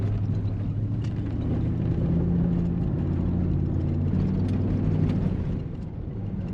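A V8 Mitsubishi L400 4x4 fitted with a 1UZ VVTi engine rolls along a gravel road, its steady low engine rumble and road roar filling the cabin evenly throughout, with no talking.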